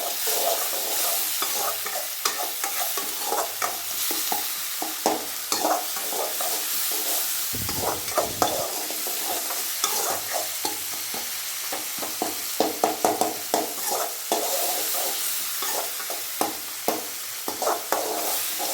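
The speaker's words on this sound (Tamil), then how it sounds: "லைட்டாக வாட்டர் மிக்ஸ் பண்ணிக்கலாம். அப்போ தான் தக்காளி கொஞ்சம் வேகும்" Tomatoes stirred with a little water for instant vegetable biryani, a steady bubbling sizzle broken by repeated scraping spoon strokes that clatter close by, with a brief louder burst midway and no talking.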